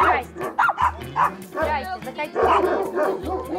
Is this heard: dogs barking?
yes